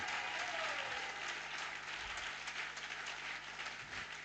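A church congregation applauds continuously, a steady wash of clapping heard from a distance at low level, with a faint hum underneath.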